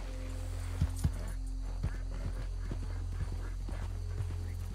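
Horse hooves in Red Dead Redemption 2, a steady clip-clop of hoofbeats over a constant low rumble of game ambience, moderately loud throughout.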